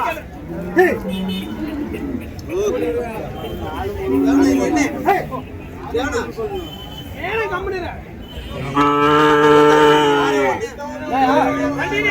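Cattle at the Orappam cow market low and moo repeatedly, loud and close, with one long drawn-out call, over a steady babble of people talking and trading nearby.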